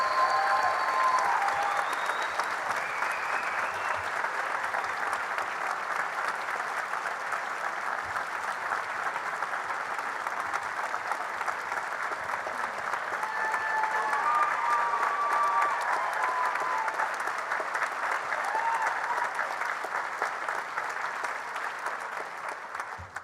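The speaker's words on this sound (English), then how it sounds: "give him a big round of applause for all he's done for NVU" A large audience at a university commencement ceremony claps in sustained, steady applause for over twenty seconds, loud and even, with a few faint cheers mixed in.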